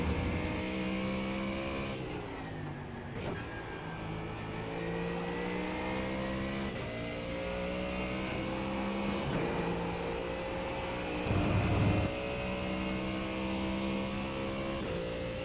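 Race car engines in the iRacing simulator at Spa, a continuous loud engine drone with repeated upshifts and rising revs, plus a brief burst of louder roar near the end, with no talk.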